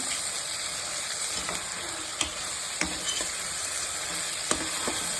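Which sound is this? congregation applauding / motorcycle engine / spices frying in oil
spices frying in oil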